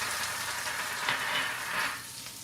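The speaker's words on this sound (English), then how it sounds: "I love the sizzling sound." Ginger and green onion hit a hot pan for a quick sauté, giving a steady, close sizzle and hiss that swells briefly a couple of times and carries on without pause. Nobody speaks.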